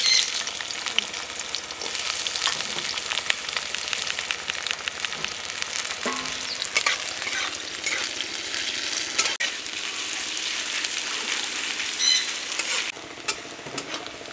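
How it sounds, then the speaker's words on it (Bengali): Two large chopped onions fry in a pan with dry red chillies, bay leaf and cardamom, giving a loud, continuous sizzle with scraping stirs and occasional clacks, and no voices. "দেখুন পেঁয়াজ ভাজা প্রায় হয়ে আসছে আর ব্রাউন কালারও চলে এসছে।"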